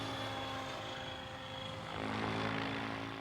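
A model helicopter flies upside down outdoors, giving a steady, fairly distant rotor and motor whine with a constant pitched hum that swells slightly toward the end. No voices are heard.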